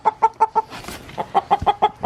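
A broody hen gives a rapid series of about ten short, close clucks in a steady rhythm, broken midway by a soft rustling noise before the clucking resumes.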